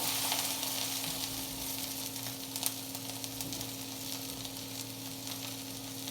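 Peppers and other vegetables sizzling in a hot pan after being tipped in, a steady loud frying hiss throughout with a few faint clinks and stirring sounds.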